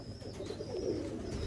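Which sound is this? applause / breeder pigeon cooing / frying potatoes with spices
breeder pigeon cooing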